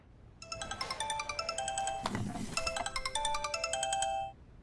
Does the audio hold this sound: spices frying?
no